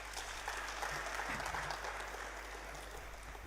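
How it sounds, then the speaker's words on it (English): Audience at a renewable energy hybrid conference applauding, a steady, dense wash of clapping that holds at an even level from start to finish. "I believe he deserves a round of applause."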